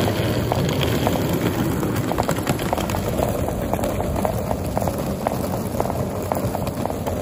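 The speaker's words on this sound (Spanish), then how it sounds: "Y eso es el sonido de las ruedas de la maleta que está rodando sobre la acera." Small suitcase wheels rolling along a city sidewalk, a steady gritty rumble with rapid clicking over the paving, close by and continuous amid street noise.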